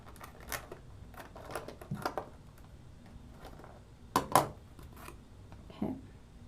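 Small scissors snipping a false eyelash strip, several sharp, quiet clicks spaced irregularly, with a couple of louder snips near the end, close and soft, no talking.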